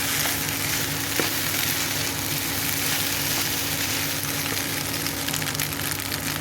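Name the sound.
cooked macaroni added to a frying pan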